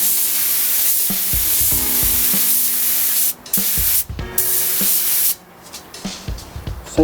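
Spray paint goes on as a second coat in continuous loud hissing bursts close by, cut by two brief pauses and a few faint knocks near the end.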